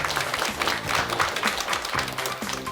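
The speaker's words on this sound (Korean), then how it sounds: "다시 한번 큰 박수 보내주십시오" A studio audience claps warmly at a televised lecture on happiness, a full, steady round of applause with some low tonal sound beneath it and no speech over it.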